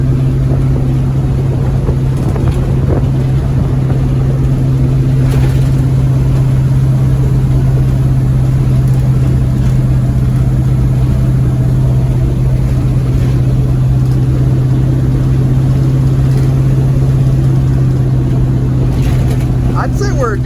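Loud, steady drone of an International Scout engine cruising at about 45 mph, with a constant low hum, road and wind rumble filling the whole stretch; voices murmur faintly underneath.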